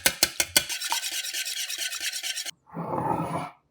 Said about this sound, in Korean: 계란 2개 곱게 풀어주고